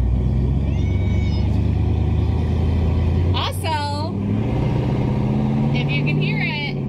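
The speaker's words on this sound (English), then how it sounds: "if you can hear it, we're driving the new car, the new old car" Steady low engine rumble from the interior of an old car on the road at a farmers day outing, continuous throughout with a person talking over it and brief chirping sounds partway through.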